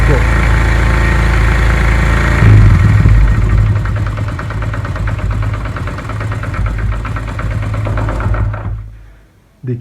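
A Honda CD 70 motorcycle engine runs steadily with a throttle raise around the third second, holding a busy revving drone before cutting off abruptly near the end.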